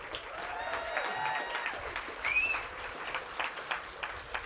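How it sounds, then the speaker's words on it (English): Audience applause at a youth competition showcase, steady dense clapping from a crowd filling the room, with a brief whistle or cheer partway through. "Another round of applause for them."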